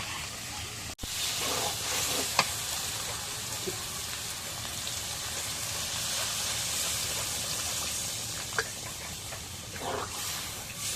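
Broiler chicken curry in a pan hissing steadily as water hits it, a continuous broad sizzle and steam noise with a few faint clicks and taps, moderately quiet and without talking.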